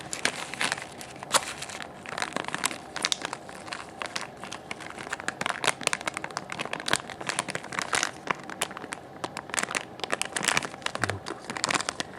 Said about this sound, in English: I hope that if you're watching, you enjoy the crinkling of these packets as much as I do.